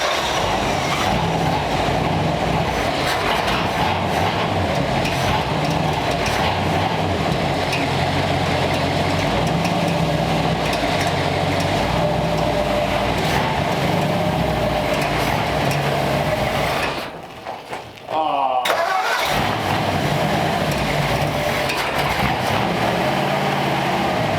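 The engine of a 1939 Ford hot rod idling as it warms up, a loud steady close rumble throughout that cuts out briefly near the end before resuming.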